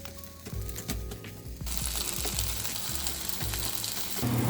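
A tomato roasts directly on a stovetop flame for eggplant choka, giving a close steady sizzle and crackle with soft knocks and bumps at the start. No one speaks.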